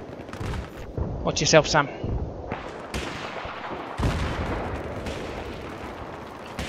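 Mortar shells land with heavy booming impacts during a Battlefield 3 team deathmatch on Noshahr Canals, several thuds and blasts spread across the scene, with players talking over them.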